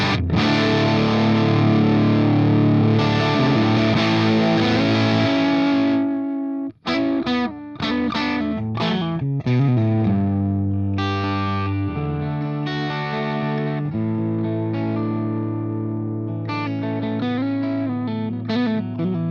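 Distorted electric guitar played through a Hotone Ampero Stomp II modeler into a V30 4x12 cabinet simulation, heavy sustained chords giving way to chugging riffs and single-note runs, loud and alone.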